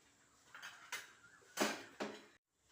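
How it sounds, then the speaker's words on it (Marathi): A lid being fitted onto a pressure cooker holding mutton: several faint metallic clanks and scrapes in a short, quiet sequence. "आता मी इथे झाकण लावून घेत आहे कुकरला"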